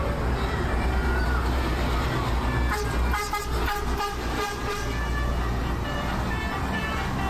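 Parlente bus sounding its musical telolet horn on a toll road, loud repeated toots over rumbling traffic and engine noise, with excited voices faintly mixed in.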